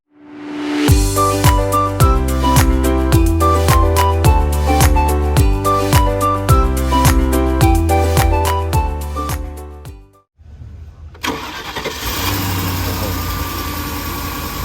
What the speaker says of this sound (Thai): เออไหนลองติดเครื่องนึง ติดแก๊สไว้เรียบร้อยนะครับ